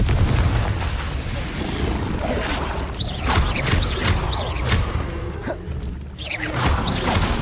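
Confringo blasting spells in Hogwarts Legacy burst in repeated booming explosions with whooshes over a dense, loud rumble of combat, and there is shouting in the mix.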